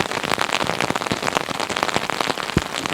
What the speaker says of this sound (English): That's getting quite loud rain on the umbrella too